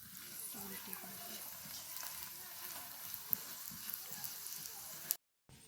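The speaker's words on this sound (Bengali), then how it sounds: "এবার চেপে চেপে পরোটাটাকে ভেজে নিতে হবে।" A yogurt paratha fries in a pan while being pressed down, giving a faint, steady sizzle for several seconds with a soft voice underneath, then falling silent.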